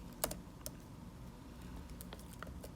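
Faint, sparse clicks of typing on a computer keyboard, a few separate keystrokes over a quiet background.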